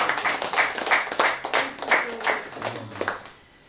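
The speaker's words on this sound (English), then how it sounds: "Please, can we give a round of applause?" A small audience at an official visit to a university vice chancellor gives a round of applause: a few people clap in distinct, uneven bursts that thin out and stop, with some murmured speech underneath.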